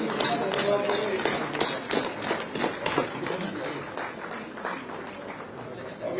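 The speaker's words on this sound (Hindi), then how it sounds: "सब लोग तालियों से मुख्यमंत्री जी का धन्यवाद करें।" Audience applause for the Chief Minister at a conclave, steady dense clapping filling the whole stretch, loud and continuous with a little crowd noise mixed in.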